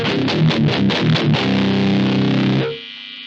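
An electric guitar runs through a Freedman OD overdrive pedal, giving loud, fuzzy distorted notes that ring out and decay into a steady buzzing hiss.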